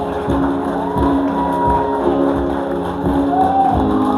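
A church congregation during a communion service claps and cheers, with shouts and voices rising over a crowd roar and a musical tone sustained underneath, loud and close.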